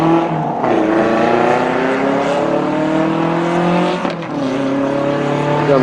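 A racing car passes at speed on a track, its engine note climbing through sustained gears while it stays loud and close, then dips briefly and swells again as another car follows.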